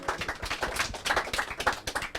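A crowd claps in quick, uneven bursts, close and fairly loud, a short round of applause with no talking.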